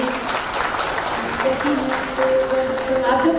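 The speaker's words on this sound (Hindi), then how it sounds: "एक बार जोरदार ताली बजा दीजिए प्लीज।" An indoor audience at a student awards ceremony claps steadily and loudly throughout, a dense continuous round of applause with faint tones and background voices rising in the final second.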